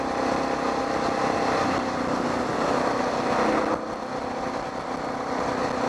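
An engine with a dirty carburetor runs continuously nearby, a loud, rough droning hum with a slight dip partway through and no voices.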